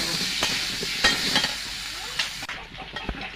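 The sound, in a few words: pumpkin and potato frying in a pan for khichuri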